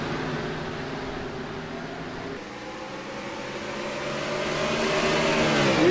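Stock cars race in a sim racing game at the Lucas Oil 400, engines droning steadily with layered harmonic whine that dips briefly then climbs louder as cars accelerate, no voices.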